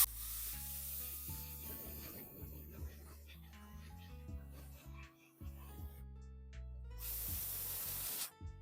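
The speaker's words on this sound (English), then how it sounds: "A little bit of compressed air now to air thin it" Compressed air hisses from a dental air syringe onto resin bonding agent to thin it, a soft breathy spray under a low hum, with a stronger close hiss burst near the end.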